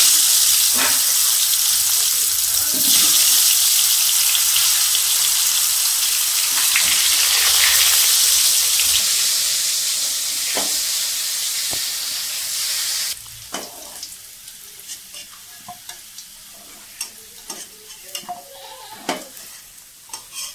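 Potatoes fry in a pan with a loud, steady sizzle, broken by occasional stirring clatter; the sizzle drops to a quieter crackle with scattered scrapes partway through.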